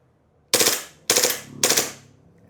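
An airsoft pistol with a metal slide and polymer frame fires on full auto in three short, loud bursts, each a rapid rattling string of shots followed by a brief decaying echo.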